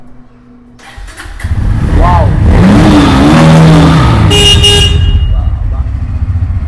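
A used Bajaj Pulsar N160 motorcycle engine starts up close and loud, then rises into a sustained revving roar that settles slightly toward the end, with someone speaking briefly over it.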